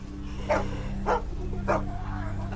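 A dog in The Walking Dead video game barks three times, evenly spaced, each sharp and fairly close, over a steady low hum of game background sound.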